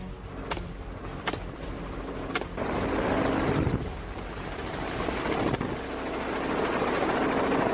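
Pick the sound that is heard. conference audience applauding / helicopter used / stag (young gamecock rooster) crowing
helicopter used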